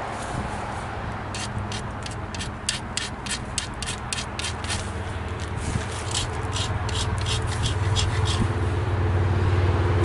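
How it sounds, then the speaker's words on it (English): Mookaite flint point having its edges ground at the notch areas, a dense steady abrasive rubbing with rhythmic rasping strokes that grows louder toward the end, close up with no talking. "Grind where we're going to put the notches in"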